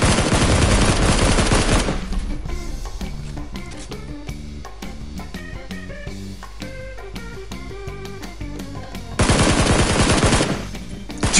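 Video-game gunfire plays as rapid machine-gun bursts, loud sustained volleys that open and close the stretch, with sharp repeated shots and musical or effect tones in between, no talk.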